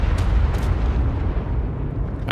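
A large explosion in the video game ARK rolls out as a loud, sustained low rumble with a couple of sharp bursts near the start, fading slowly over about two seconds, with no talk.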